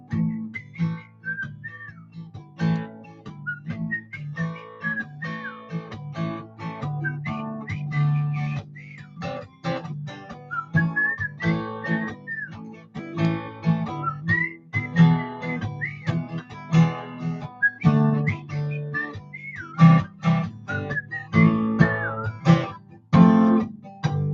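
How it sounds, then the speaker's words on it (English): Someone whistles a lively melody alone, bright notes rising and falling in quick phrases with brief pauses, steady and close. "Let's whistle now."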